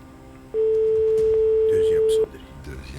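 First ring of a telephone call placed during a live Polynesian TV game draw: one loud, steady, low buzzing ring tone lasting under two seconds, with room noise and faint voices before and after.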